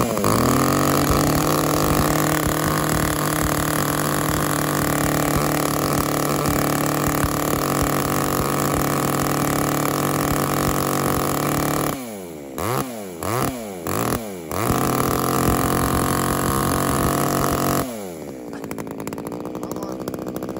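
A Hitachi C5 chainsaw engine runs loud and close at a steady high rev, drops into a few short throttle blips, roars again, then cuts out near the end.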